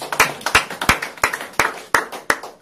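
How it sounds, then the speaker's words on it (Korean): Slow, rhythmic clapping at a lecture, about seven sharp, evenly spaced claps close by with little else around them. "박수, 박수, 박수."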